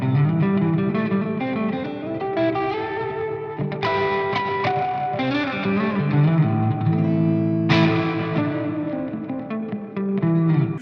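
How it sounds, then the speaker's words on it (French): Electric guitar played through a long reverb effect, sustained chords and notes smearing together into a dense, washing tail with distorted edges, loud and continuous. "C'est long. C'est très long comme reverb."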